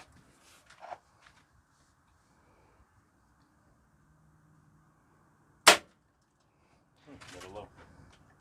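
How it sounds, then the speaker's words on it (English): A .22 Shockwave break-barrel pellet rifle fires once into two balls of Play-Doh, a single sharp, loud crack standing out mid-clip, with faint indistinct voices before it and quiet chatter after. "My son's going to shoot his 22 Shockwave, and let's see what it does."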